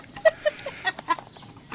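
Chickens cluck and squabble in a series of short, sharp calls at close range, irregular bursts spaced through the moment with no talking over them.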